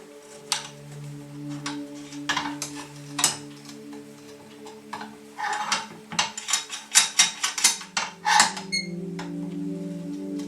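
Bolts on a lathe tool rest are loosened with a wrench, producing a series of metallic ratcheting clicks and clanks that grow busier toward the end over a steady machine hum.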